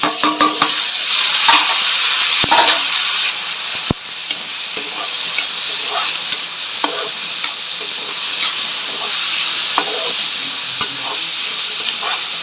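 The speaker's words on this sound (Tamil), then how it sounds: "இந்த வெங்காயம் வதங்கினோடனே தக்காளி போட்டுக்கலாம்" Tomatoes frying with sautéed onions in a pan for hotel-style tomato kurma, a steady sizzle and hiss with occasional stirring scrapes and clinks, close and continuous with no talking.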